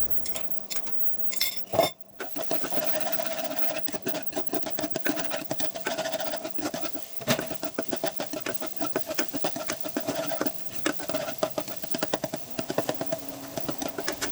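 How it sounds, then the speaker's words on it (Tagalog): Egg and carrots are stirred in a pot for a breakfast fried rice, a close, continuous run of rapid metal-on-metal scraping and clinking from the utensil against the pot, with no talk. "ilagay na natin yung itlog at haluhaluin hanggang sa maluto yung itlog"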